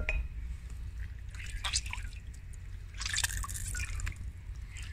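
Water drips and trickles steadily from homemade mozzarella cheese as it is squeezed by hand, with faint splashes close by.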